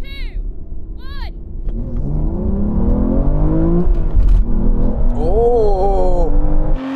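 An Aston Martin Valkyrie, Vanquish and V12 Vantage accelerate hard together in a rolling drag race, a loud sustained engine roar climbing through rising revs and gear shifts, with a voice exclaiming over the engines.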